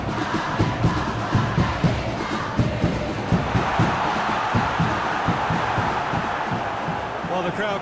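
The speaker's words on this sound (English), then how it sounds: "Well, the crowd clearly like what they just saw." A stadium crowd in the football video game PES 2025 roars and chants in a sustained wall of noise with rhythmic rises, and a commentator's voice talks over it.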